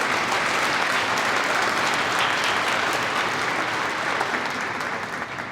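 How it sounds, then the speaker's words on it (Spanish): Audience applause greeting a speaker at a political report event for a Movimiento Ciudadano deputy, a dense, loud, steady roar of clapping hands that holds evenly and tapers only slightly at the end. "Un aplauso para recibirlo."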